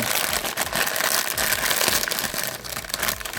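Continuous crinkling of a thin plastic parts bag from a Minecraft building-block set, close and steady, as the bag is handled and pulled open for several seconds.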